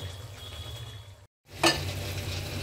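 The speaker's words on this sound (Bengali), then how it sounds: "এখানে দেখুন মশলাটা ভাজা ভাজা হচ্ছে" Ground spices fry in oil in a kadai, a wok-style pan, giving a faint, continuous sizzle that drops out briefly and then returns slightly louder.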